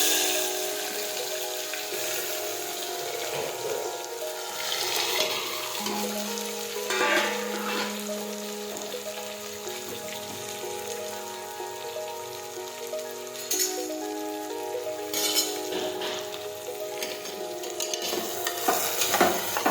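Chopped vegetables frying in hot oil with mustard seeds, cumin and asafoetida for a cluster bean and potato curry, a continuous crackling sizzle with popping seeds and occasional stirring clinks, no one speaking.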